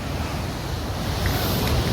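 A swollen river, high after heavy rain, rushes past in a dense, unbroken roar that stays loud and steady throughout.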